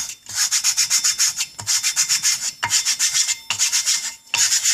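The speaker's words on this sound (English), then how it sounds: "Now I'm actually going to go on top of this grit, and what I'm really trying to do is push it down into the plate." Abrasive grit being rubbed and pressed into a metal lapping plate by hand, a close, rhythmic scrubbing of quick back-and-forth strokes in several bursts with short pauses between them.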